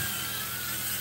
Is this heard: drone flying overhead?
yes